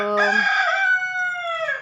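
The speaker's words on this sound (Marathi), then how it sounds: "आता हा गबराल जो आहे तर आता हा इथे कोंबडे पकडायला बांधायला माझ्या हाताखाली इथे मदत करत आहे" A rooster crows once, loud and close, its long harmonic call holding steady before trailing off at the end.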